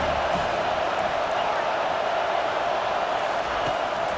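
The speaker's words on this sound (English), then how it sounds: "how nice is it to have the home crowd going absolutely bananas?" Home crowd in EA Sports College Football 25 roaring steadily at a football game, a dense continuous wash of cheering noise throughout with no clear breaks.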